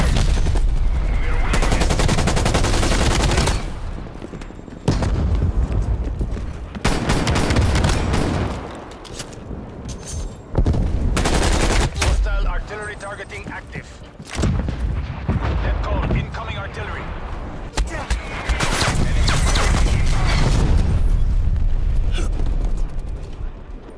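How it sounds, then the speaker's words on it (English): Video game artillery fire: repeated heavy booming blasts and rumbling barrages hit in bursts over about twenty seconds, loud and close, with short quieter gaps between salvos and occasional game voice lines. "Artillery inbound."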